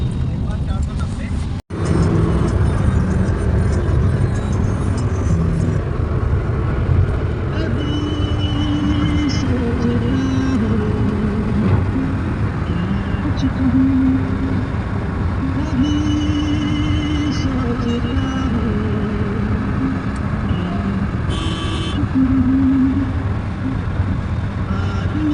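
A car drives along a road on a long trip, a steady low engine and tyre rumble with a sharp knock near the start, while people talk over it throughout.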